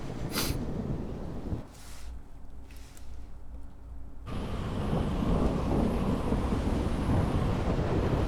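Thunder rolls and rain pours during a lightning storm in the Super Mario Odyssey video game, a loud crack early on, then a heavy, steady rumble and downpour building over the rest.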